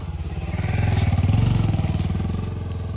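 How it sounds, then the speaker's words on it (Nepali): A motorcycle passes close by on a rough road near Dhampus, its pulsing engine swelling loudly to a peak and then easing off as it moves past. "बाइक गइरहेको छ"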